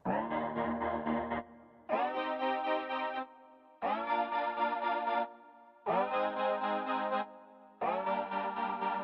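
Synth glide notes from the Pure Glide iOS app, five sustained buzzy chorused tones in a row, each sliding into pitch and separated by short gaps, with no other sounds.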